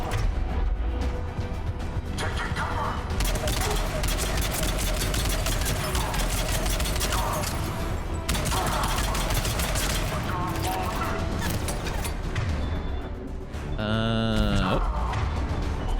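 Rapid rifle fire from the shooter game Mass Effect 3 crackles in long, dense bursts over busy combat noise and game music, with brief pauses between volleys.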